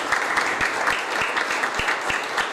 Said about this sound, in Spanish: los más chiquitos, acompañamos con un aplauso